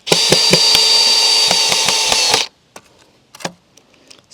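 Power drill running loud and steady for about two and a half seconds while driving screws into wood for an outdoor table, then a few faint clicks and handling knocks afterward.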